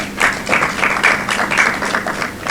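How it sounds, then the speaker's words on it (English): Audience applause for the Gambia Got Talent team at a signing event: moderately loud clapping from a modest crowd, slightly uneven and pulsing, with individual claps audible within the wash. "I want you all to give them a round of applause."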